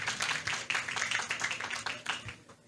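A short round of applause from an audience at a conservation financing event in Peru, a dense, moderately loud patter of clapping that tapers off at the end.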